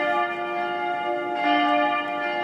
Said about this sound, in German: Wie jedes Jahr läuten alle Kirchenglocken.